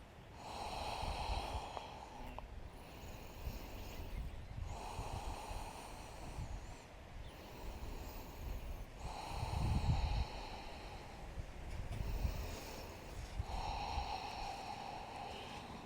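Slow, deep breathing during a yoga pose: long nasal inhales and exhales alternate in a regular rhythm every few seconds, close and soft, with no speech.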